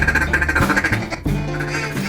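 Ducks quack in a hunting setting at a Stuttgart duck derby, with loud, raspy quacks repeating over about two seconds and no talk.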